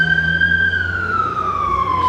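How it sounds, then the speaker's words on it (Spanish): A single sustained wailing tone from a police or ambulance siren, loud and close, slowly gliding downward in pitch as it passes. "De las sirenas de la policía o de la ambulancia."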